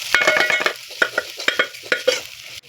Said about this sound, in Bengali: এবার দিয়ে দিতে হবে লবণ, হলুদ আর গুঁড়ো লঙ্কা। এটা দিয়েও কিছুক্ষণ ভেজে নিতে হবে।